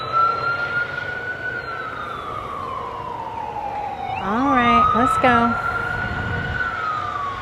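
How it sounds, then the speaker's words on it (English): Emergency vehicle sirens wail steadily nearby in a street setting, one long sweeping tone joined by a second siren's rapid rising yelps, with someone briefly speaking over them. "Man, there's a lot of sirens."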